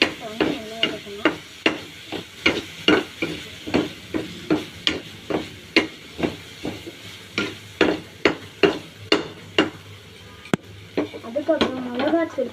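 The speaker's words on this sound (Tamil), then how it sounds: "மிளகாத்தூள் போட்டு நல்லா வதக்கணும்." Repeated rhythmic knocks of a spoon stirring and sautéing chili powder in a pan, about two strikes per second, close and moderately loud, with a soft sizzle beneath.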